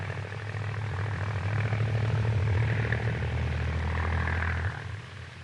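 A propeller airplane drones in flight, a steady loud engine hum with propeller buzz that swells slightly and then eases near the end.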